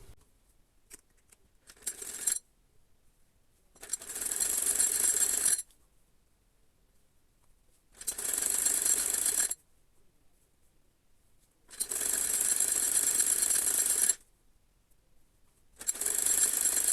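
A sewing machine runs in four bursts of steady, fairly loud stitching, each lasting about two seconds and separated by quiet pauses, while it sews the cuff of a bell sleeve.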